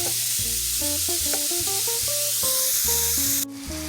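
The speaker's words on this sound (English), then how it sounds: "break up the ground beef, and we're just going to cook it" Ground beef sizzles and fries in a pan as a steady broadband hiss, heard under loud stepped background music, with a sudden drop in the high hiss near the end.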